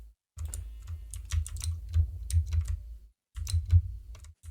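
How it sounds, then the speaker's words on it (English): Rapid clicking keystrokes on a computer keyboard, heard close in quick bursts with a short pause in the middle, then another flurry of taps. "you can hear my keyboard kind of a lot"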